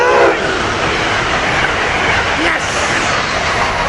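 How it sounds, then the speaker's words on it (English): An Amtrak regional train hauled by an ACS-64 electric locomotive rushes past close by, a loud, steady roar of wheels and rail noise with faint clickety-clack throughout. "Here we got an Amtrak train,"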